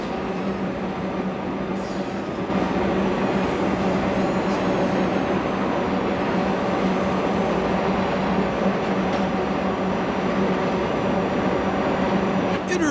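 A CSX freight train hauling intermodal well cars rolls across the Marcy Trestle on the Cleveland Short Line, giving a steady, loud rumble of wheels and cars that holds level for the whole stretch.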